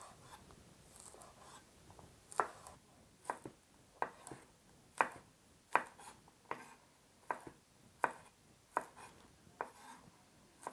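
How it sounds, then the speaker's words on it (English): A knife slices diagonally through green beans on a cutting board, making about a dozen crisp, evenly spaced taps that are quiet and close, with no talking. "this is how you're going to cut the green beans"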